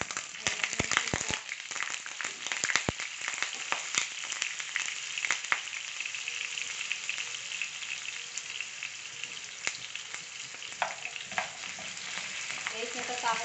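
Carrots and potatoes frying in hot oil for Filipino chicken afritada, a close, steady sizzle with bursts of crackling and occasional stirring clatter, no talk.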